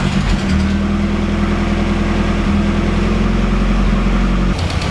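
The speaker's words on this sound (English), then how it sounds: "Let's fire the car up and see if it's still running like a bag of spanners on tick over." Ford Escort Cosworth engine running roughly at idle with an ongoing fault: a loud, close, continuous throbbing rumble with an uneven, lumpy pulse, alone with no talking.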